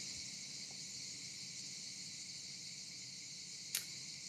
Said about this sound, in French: Il y a les cigales qui sont là.